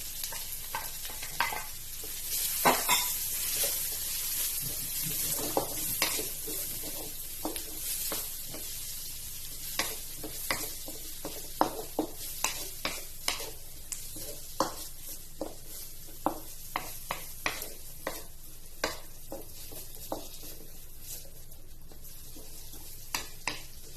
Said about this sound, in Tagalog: Igisa lang natin sa rice. At yung sibuyas.